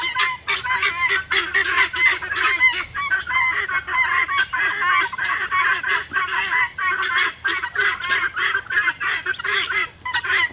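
A flock of guinea fowl and turkeys calls nearby in a dense, rhythmic chorus of harsh, repeated honking cries that keeps going without pause and has no talking over it.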